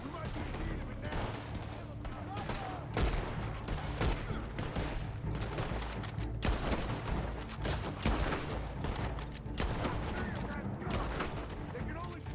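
Gunfire in Red Dead Redemption 2 cracks in repeated shots and rapid volleys against a constant low rumble of battle, with people shouting and talking throughout.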